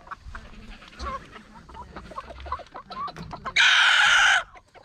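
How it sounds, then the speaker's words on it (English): Roosters and chickens on a farm cluck and chatter continuously at close range, with a loud burst of bright, noisy sound near the end. "I like the little Benny roosters"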